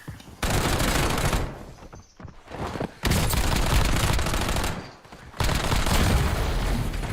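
Automatic gunfire in Call of Duty Warzone, aimed at a wall: long, loud, rapid bursts separated by short pauses, close and dominant.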